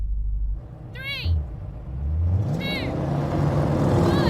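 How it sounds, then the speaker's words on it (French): Three performance cars, a BMW M5, an Audi RS6 Performance and a Mercedes-AMG GT 63, launch together in a drag race. Their engines build into a steady loud roar, with rising whines and tyre chirps near the start. "Lancement incroyable, même devant l'Audi."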